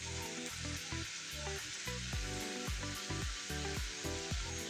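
Bottle gourd peel bhaji with chopped coriander leaves fries in a pan. A loud, steady sizzle runs throughout, punctuated by a quick, regular series of clattering stirs of the spatula against the pan.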